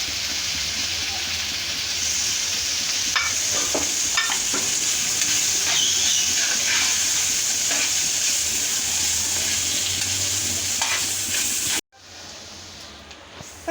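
Broad bean poriyal frying in a pan while being stirred, a steady loud sizzle with scattered scraping clicks of the spoon, cutting off abruptly near the end.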